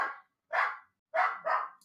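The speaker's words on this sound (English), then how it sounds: "Bark." A dog barks three times, sharp mid-range barks with short gaps and the last two close together, clear against silence.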